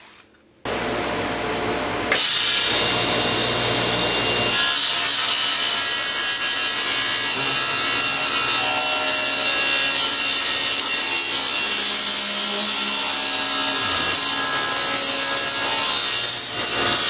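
A saw cuts a very thin strip from a wooden board held in a jig, with a continuous, loud, steady cutting whine that starts after about two seconds and runs to the end, with no talking.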